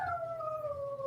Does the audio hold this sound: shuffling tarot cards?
no